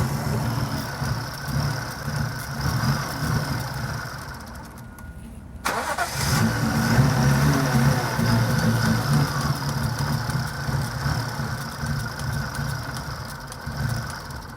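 A supercharged Toyota IS200 drift car on a dyno cranks and fires up midway, then settles into a steady, rough idle, loud and close, with workshop noise and no clear talking.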